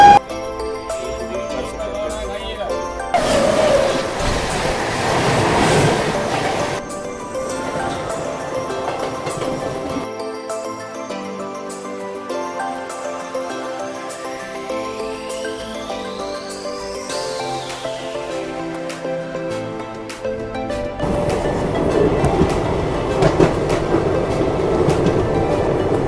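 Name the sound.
train travelling on long-distance Indian railway journey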